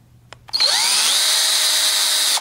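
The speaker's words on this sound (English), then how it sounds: "You just take a screw, you're going to seat it, like this." A power drill drives a screw into a French door ball clasp, a short click followed by a loud, steady whine lasting about two seconds up close.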